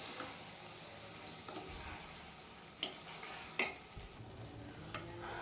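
Washed rice being fried in masala for a potato tomato pulao, making a low, steady sizzle with a few sharp clicks and scrapes of a spoon against the pan.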